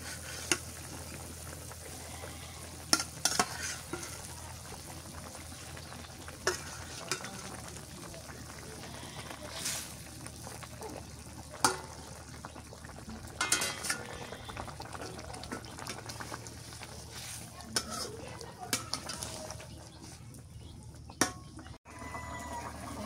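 Fish going into a pan of hot oil with turmeric water, cooked as a Bengali fish curry. A steady low sizzle and bubbling runs throughout, with scattered clinks and stirring noises. No one speaks.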